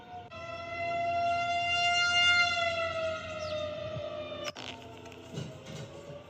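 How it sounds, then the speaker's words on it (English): An emergency alert system siren wails with a loud, sustained, gently wavering tone that rises and then fades, followed by a sharp click and a quiet tail. "all of a sudden the emergency broadcast comes on and that siren was going off earlier"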